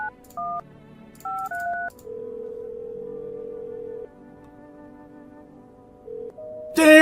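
A telephone keypad dials a string of paired DTMF tones in short bursts, followed by a long steady tone and a few more beeps before a sudden loud burst at the end; no one speaks.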